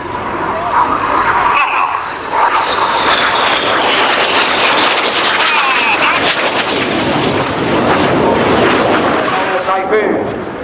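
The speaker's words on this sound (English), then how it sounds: "Each pair will now dive down to only 100 feet above the airfield." Red Arrows jets dive low, to about 100 feet, over the airfield at the Royal International Air Tattoo 2024 air display, making a loud, continuous roar that swells and sweeps past, with an announcer's voice underneath.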